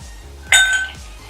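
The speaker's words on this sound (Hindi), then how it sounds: "अब इसमें 3 से 4 क्यूब्स आइस की डालेंगे" Three to four ice cubes dropped into an empty glass while making a soda drink, giving a single bright, ringing clink and short rattle, close and fairly loud.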